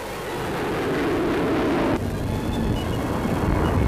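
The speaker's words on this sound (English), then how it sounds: "Also a Bristol Brigand, a fighter bomber." A Bristol Brigand fighter bomber flies past, producing a loud, broad engine roar that builds over the first second, then shifts abruptly to a steadier, slightly thinner rumble as it continues overhead.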